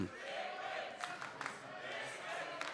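An arena crowd at a Counter-Strike esports semi-final in Kiev roars in a steady, dense wash of cheering and shouting, with a few louder whoops rising out of the din.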